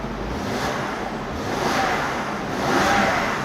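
Large sedan with push-button start, engine idling in a smooth, steady low hum with a slight swell near the end, fairly close and with no one talking.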